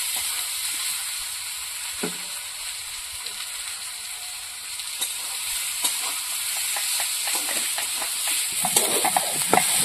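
Garlic, chili paste and cumin paste sizzling in a pan for a fish curry, a constant hiss with sporadic spatula scrapes that grow busier toward the end, close and moderately loud.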